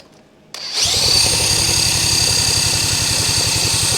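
A 1971 Honda CB100 motorcycle's electric starter whirs in after a brief quiet moment, then holds a steady, rapid cranking rhythm close up and loud for several seconds.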